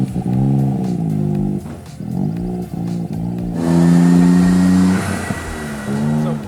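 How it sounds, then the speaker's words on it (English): A small stock car engine revs up through its range, loud and close, with rising harmonic sweeps that climb, drop with each shift and climb again in a steady pulling tone throughout. "Look at how fast it's sweeping through the rev range."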